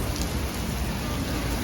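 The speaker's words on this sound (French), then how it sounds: "Waouh, cette pluie" Heavy rain pouring steadily in a Seoul street, a dense, even hiss of drops with no pauses, loud and close.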